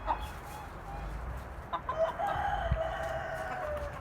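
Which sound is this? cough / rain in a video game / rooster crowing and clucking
rooster crowing and clucking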